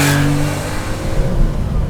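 A Porsche 911 Carrera 2.7 RS pulls away after a downshift, its engine note loud for an instant before dropping into a rougher, steady roar of road and wind noise.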